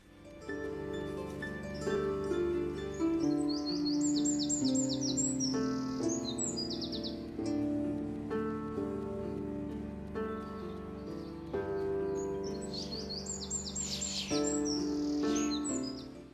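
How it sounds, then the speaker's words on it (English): Birds chirp and trill high above a melodic folk music recording, the bright calls recurring in bursts over sustained instruments throughout. "It starts off with this beautiful melody backed by the sounds of birds"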